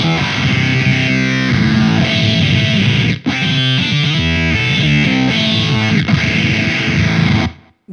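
Harsh, gnarly distorted guitar through a Way Huge Atreides effects pedal with sliders centered, loud and dense with chaotic, buzzing layers, a brief cut near the middle before it resumes and stops.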